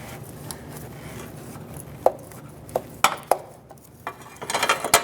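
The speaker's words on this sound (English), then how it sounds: "That's an oil filter wrench." Metallic ratcheting and clanking as an oil filter wrench works on the oil filter of a 2015-2024 Jeep Renegade, scattered sharp clicks and knocks of varying loudness over quiet background, growing busier toward the end.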